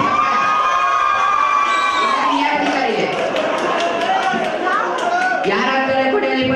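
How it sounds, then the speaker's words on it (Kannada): A crowd at a staged Kannada quiz-show drama cheers and shouts loudly throughout, with children's high-pitched voices prominent and a few claps near the end. "ಒಂದು ದೊಡ್ಡ ಚಪ್ಪಾಳೆ ಅಲ್ಲಿ"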